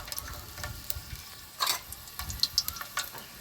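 Cumin and mustard seeds fry in hot oil for village-style gongura chutney, giving a soft continuous sizzle with small crackling pops and a few sharp spatters and stirring clinks, close and alone.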